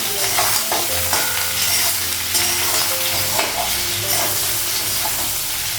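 Potato and green banana pieces fry in hot oil with steady sizzling and repeated scraping stir strokes, close and continuous, with no voices.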